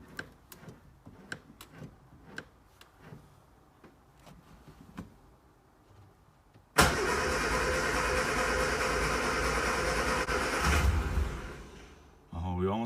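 A vintage Morris Minor 1000 engine cranked with the choke pulled catches after sparse clicks and fumbling, then roars into a loud, steady idle for several seconds before fading.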